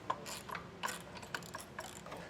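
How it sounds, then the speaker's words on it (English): A ratchet tightens hardware on a Dutton-Lainson covered hand winch in faint, quick clicking strokes close by, with a few short pauses between them. "we'll just go back through and tighten all that hardware down"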